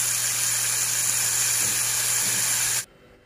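Clown knifefish cakes wrapped around quail eggs deep-fry in hot oil, giving a steady, close sizzling hiss that runs unbroken until it cuts off abruptly just before the end.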